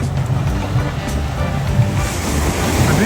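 Surf and sea wind on a beautiful beach with a shallow swimming area, a constant broad roar of breaking waves with gusty wind buffeting the microphone and no clear speech.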